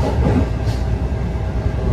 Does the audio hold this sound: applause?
no